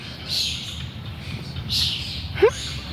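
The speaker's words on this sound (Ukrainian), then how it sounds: "А тут так чудово пташки співають." Birds sing in a park on a morning walk, a few separate chirps and short calls at moderate distance over a low steady outdoor hum, with one sharper call near the end.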